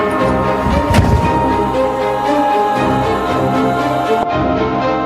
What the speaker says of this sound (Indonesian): Tadi aku lihat Mei jatuh dari lantai 2